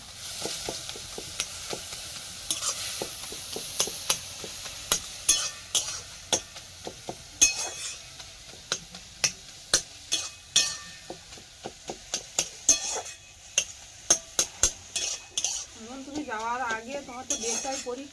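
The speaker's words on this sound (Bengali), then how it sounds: "বাড়িতে শাক সেদ্ধ বানাচ্ছি পালং শাক সেদ্ধ" Boiled palong shaak spinach being cooked and stirred in a pan, with a steady run of sharp utensil clinks and scrapes against the metal over a soft sizzle, close and fairly loud, and a brief voice near the end.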